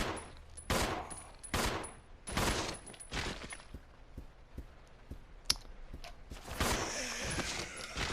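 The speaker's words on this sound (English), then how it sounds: "You have to shoot a lot anyway in this part." Gunfire in Resident Evil Zero, a series of sharp shots spaced irregularly with clicks and mechanical handling sounds between them, then a denser burst of noise near the end.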